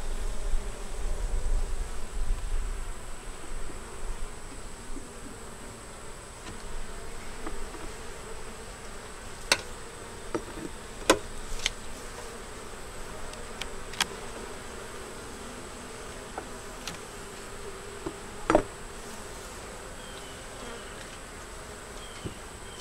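Honeybees hum steadily in a soft, continuous drone over an open hive frame of a double-deep five-frame colony, with faint occasional clicks and handling noises and no talking.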